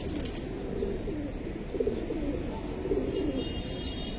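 Giribaz pigeons, including black-necked silver birds, give a few soft, low coos close by over a steady background hiss.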